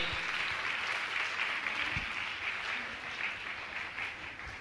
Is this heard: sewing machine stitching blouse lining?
no